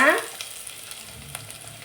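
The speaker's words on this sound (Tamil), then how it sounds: "நான் பெரிய வெங்காயம் சேர்த்துக்கிறேன் வெங்காயம் நல்லா வதங்கட்டும்" Big onions sautéing in oil in a pan with dried red chillies for a spinach stir-fry, a brief loud sizzle at the start settling into a steady soft frying hiss with faint stirring clicks.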